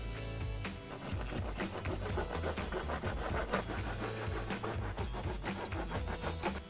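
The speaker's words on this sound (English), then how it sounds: "take a sharp fine-tooth saw and cut along the dotted lines" A sharp fine-tooth saw cuts through a plastic downpipe, a steady run of quick rasping strokes close by, alone and evenly paced throughout.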